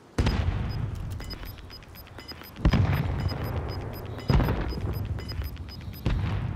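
Cluster strike bombs in Call of Duty: Modern Warfare land as a series of heavy booming impacts spaced a second or two apart, each with a rumbling tail, while a faint repeated beeping runs steadily in the background.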